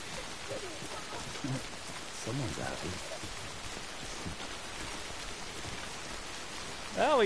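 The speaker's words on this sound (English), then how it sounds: "Rain's still here, though." Steady rain in the video game Death Stranding, a dense even hiss of falling drops throughout, with brief faint tonal game sounds and a louder blip at the very end.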